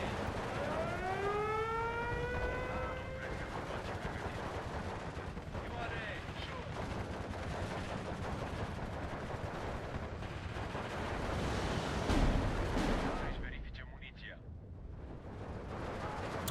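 Battle sounds in the World War II strategy game Steel Division 2: a continuous rumble of distant gunfire and explosions with a rising siren-like wail early on, under a voice talking.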